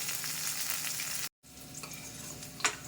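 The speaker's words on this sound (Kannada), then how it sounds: "ಸ್ವಲ್ಪ ಆಯಿಲ್ ಹಾಕಿ ಹಿಂಗೆ ಮಾಡಿ ನಾನು ಒಂದರಲ್ಲೇ ಹಾಕ್ಕೊಂಡು ಹಂಗೆ ಫ್ರೈ ಮಾಡಿ ತೆಗಿತಾ ಇದ್ದೀನಿ" Ingredients for an Andhra-style chutney fry in a little oil, giving a soft steady sizzle with light stirring clinks, cut by a brief gap of silence and a sharp scrape near the end.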